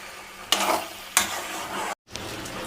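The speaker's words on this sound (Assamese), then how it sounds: "এতিয়া ইয়াক অলপমান এনেকৈ লৰাই দিছো ইয়া আমি অন্ত ফ্ৰাই কৰি আছো" Mutton stirring and frying in a pan with no water added, a steady close sizzle broken by two scraping stirs and a brief gap before the frying hiss resumes.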